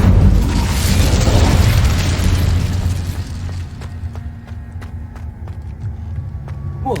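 Incendio fire spell blast in the fantasy action game Hogwarts Legacy, a loud roaring whoosh of flame that swells and fades over several seconds, followed by quieter ambience with scattered sharp clicks, close and full.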